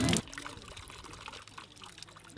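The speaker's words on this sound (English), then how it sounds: "The customer just presses this and water comes out." Water pours steadily from a coin-operated water vending dispenser in the Gambia, a continuous close trickling splash that follows a brief louder burst at the start.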